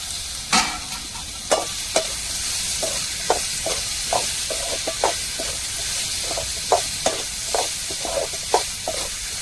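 Tomatoes and chilies sauté with shallots, ginger and garlic for a prawn gravy, giving a steady close sizzle. A spatula scrapes and taps the pan at a regular pace throughout.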